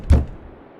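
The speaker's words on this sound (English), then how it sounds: "I woke up one morning to a knock on the door." A single dull knock on a door lands as one short, close thud, followed by near silence.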